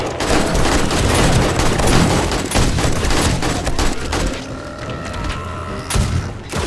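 A shotgun turret fires in a video game, a dense, loud barrage of overlapping blasts and thumps that thins out toward the end, where a few separate shots and mechanical noises remain.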